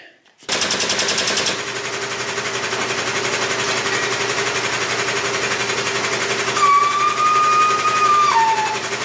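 A shop press works on the upper control arm bushings of a 1998 GMC K3500 during a front-end rebuild, giving a loud, steady mechanical rattle and drone throughout, with a thin rising whine near the end.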